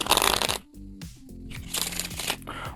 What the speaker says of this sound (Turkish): usulen birkaç kere karıştırarak numaraya başlamak istiyorum